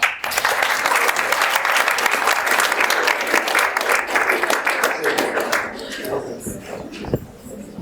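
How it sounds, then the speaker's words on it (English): Audience applause at a school-hosted science-week Q&A on Moon missions, a dense sustained wash of many hands that thins out into scattered claps near the end. "So give yourselves a clap"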